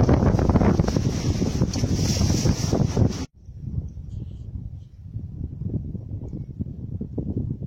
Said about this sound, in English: sailing with one reef in the mainsail and a partly furled Genoa, and the wind pilot is steering